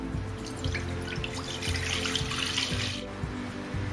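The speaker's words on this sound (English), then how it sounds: "In a pan, add the milk." Milk poured into a cooking pan for Bengali rasagolla, a steady liquid stream splashing and trickling close by for a few seconds, with no voices.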